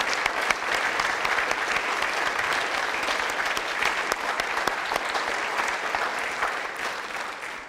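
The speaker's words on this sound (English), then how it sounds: "I think we should give him one more applause." Sustained applause from a lecture audience after a talk, dense steady clapping from many hands continuing evenly without pause.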